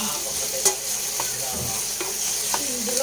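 Chicken skin frying flat in a pan of rendering chicken fat, a steady close sizzle with faint scraping stirs and small pops, no voices.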